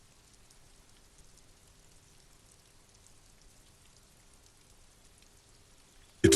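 Rain in the video game Disco Elysium falls as a soft, steady patter, faint and continuous, ending in a sudden louder burst.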